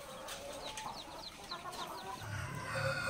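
Several day-old chicks in a brooder box peep and cluck continuously at close range, a busy high-pitched chatter with overlapping calls and no talking.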